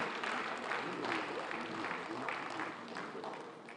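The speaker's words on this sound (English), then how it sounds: "They deserve another round of applause." An audience at a government event applauds, fairly faint, steady clapping that sounds somewhat distant and tapers slightly toward the end.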